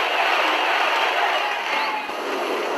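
A rioting mob of more than a thousand people at Godhra railway station produces a continuous, loud, roaring wash of crowd noise. Voices blur together into an unbroken hiss-like din with no distinct words.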